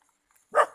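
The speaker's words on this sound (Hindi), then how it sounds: "अरे कुत्ता ओए, भौंक रहा है, देखो।" A single short dog bark, fairly close and clear, in an otherwise quiet outdoor setting.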